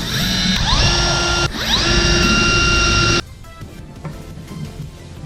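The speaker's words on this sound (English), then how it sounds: "I come in with a 5/16 bit." Power drill boring holes with a 5/16 bit into HO scale layout benchwork, two loud sustained whining runs with a brief pause between and speed changes at each start, then cutting off to quieter workshop noise.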